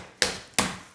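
Two sharp, close whacks of a tool flattening a piece of raw chicken for lemon caper chicken, each a hard smack with a short fading tail, about a third of a second apart.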